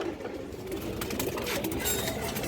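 Female pigeons of a run-blood breed with brown necks coo at a breeder's loft, a soft steady murmur of low calls running through the whole stretch with no talking over it.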